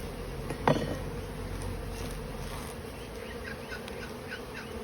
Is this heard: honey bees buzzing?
yes